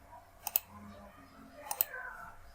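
Two quick pairs of faint computer mouse clicks, a double click near the start and another a second later, set against quiet room noise and soft background sounds.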